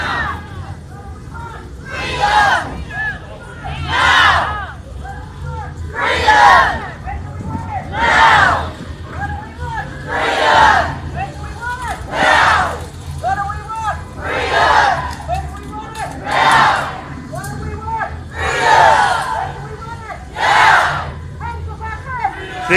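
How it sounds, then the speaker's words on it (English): A huge crowd at a freedom rally in Christchurch, New Zealand, shouting and chanting in loud rhythmic surges about every two seconds, with constant babble and traffic rumble between the roars. "That crowd will go for miles and they'll still be coming out of here."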